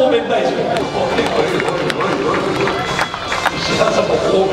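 Sustained applause from a stadium crowd at a Tokyo Yakult Swallows professional baseball game, a dense continuous patter with an announcer talking over it.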